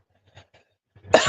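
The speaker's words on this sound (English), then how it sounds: "apologies again for the coughing" A single person's cough: a few faint, soft breathy catches first, then one sharp, close harsh cough bursts out at the end.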